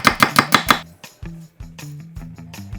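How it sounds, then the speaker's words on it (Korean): A knife slices a quarter of a paprika into thin strips on a cutting board, giving five quick, sharp chops in a row followed by softer, irregular knocks and taps, close and clear. "예쁜 색감 더할 파프리카 4분의 1개는 얇게 채 썰고"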